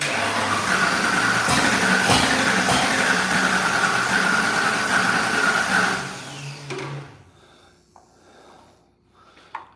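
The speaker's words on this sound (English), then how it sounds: "So by that thing turning over, I know my ignition's working." The engine of an old green parts truck turns over in a loud, continuous churning rumble for about six seconds, then cuts out, leaving scattered quieter clatter and handling noises.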